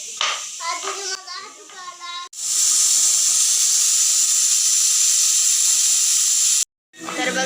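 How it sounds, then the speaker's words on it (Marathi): Pressure cooker whistle in a home kitchen, a loud sustained hissing blast lasting several seconds, preceded and followed by a voice talking nearby. "तिकडे कुकरच्या शिट्ट्या पण होत आहेत."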